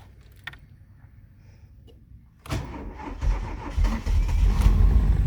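A Vauxhall Corsa B engine cranks and catches about halfway through, then settles into a loud, steady idle with some rising revs, after a quiet stretch with a few faint interior clicks.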